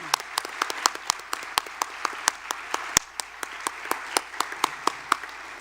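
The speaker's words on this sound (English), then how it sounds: "let's give a round of applause for all of our nominees" At a regional educators' awards ceremony, an audience claps for the nominees, distinct sharp claps spaced through a steady patter of applause, moderately distant and continuous.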